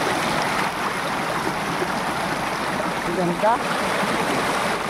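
Cold mountain spring water flows steadily in a continuous broadband rush, close and fairly loud throughout, with a person speaking briefly over it near the end.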